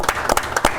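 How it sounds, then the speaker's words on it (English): A short round of applause at a city council meeting, a handful of loud distinct claps standing out over a general patter from a nearby crowd. "We'd like to give you a round of applause."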